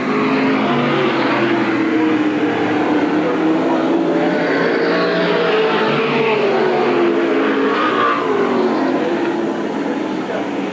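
Race cars lapping at Eugene Speedway in 1987, a steady loud engine drone filling the whole stretch with rising and falling pitch as cars pass, mixed with a commentator's voice talking throughout.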